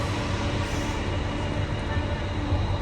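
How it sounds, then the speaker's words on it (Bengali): A Bangkok metro train arriving at the station, a steady rumbling roar of the approaching train that holds at a constant, fairly loud level throughout. "মেট্রো চলে আসছে।"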